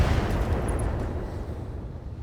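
Weapon fire lands a headshot in the BattleTech video game, a heavy, booming blast that rumbles and fades away over a couple of seconds, with a faint high ping near the start.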